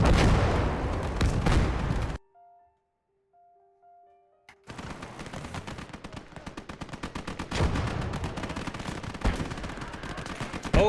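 War video game combat: dense, rapid gunfire and machine-gun bursts crackle loudly, cut out for a couple of seconds to a faint tone, then resume as sustained automatic fire with heavier booms mixed in.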